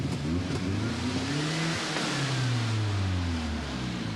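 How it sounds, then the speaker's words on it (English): A car engine revving after a valve regrind, loud and close: the engine note climbs and falls in a few surges over a continuous rough roar, with no voices. "Go on, rev it up again."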